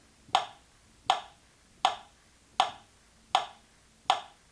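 Six sharp hand claps in a slow, even rhythm, each crisp and close with quiet gaps between.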